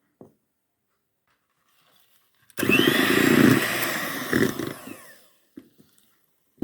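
An electric hand mixer beating batter bursts in with a loud whirring for about three seconds, steady with a slight rattle, then cuts off, leaving a few small clicks and taps.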